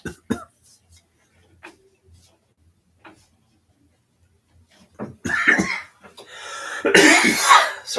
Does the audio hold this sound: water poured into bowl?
no